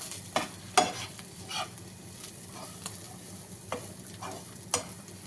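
Coconut and egg fry cooking in a pan, with a low steady sizzle and a few sharp scrapes and clinks from stirring spaced through it, close and moderately quiet, no voices.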